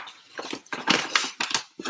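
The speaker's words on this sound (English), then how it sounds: "if you hear this incredibly ferocious dog in here, Zoe, she's destroying a toy" A dog growls and chews while it tears apart a toy indoors close behind, with rough, irregular snarling bursts and crunching over about two seconds and no speech.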